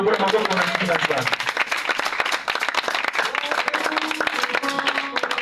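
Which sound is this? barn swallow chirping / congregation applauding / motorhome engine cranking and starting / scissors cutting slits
congregation applauding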